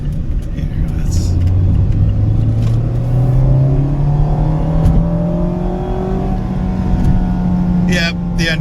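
Mazda Miata RF engine droning from inside the cabin while driving, with a steady rising hum as revs climb in gear, road rumble beneath, and someone talking over it.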